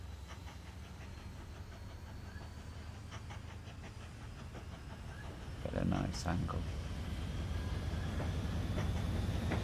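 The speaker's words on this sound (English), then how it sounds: "that's what we like to do with all our trains coming out" Trains in the railway-building video game Mashinky rumble and hiss along with clickety rail noise, growing louder and busier partway through, while someone talks over them.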